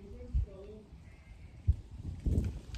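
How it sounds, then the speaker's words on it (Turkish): A sheep gives a short, faint bleat early on, followed by soft thumps and shuffling as animals move about nearby. "Koyunlar gidiyorlar."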